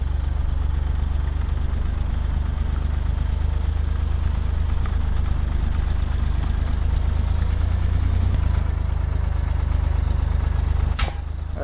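Loud car engine idling in the video game Apocalypse Rising, a constant heavy low rumble running throughout, with a faint sharp click near the end.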